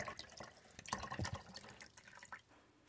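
Water from a fresh 16.9 fl oz bottle poured through a Mr. Funnel fuel filter funnel, a steady close splashing trickle with scattered drips, moderately quiet and heard alone without talk.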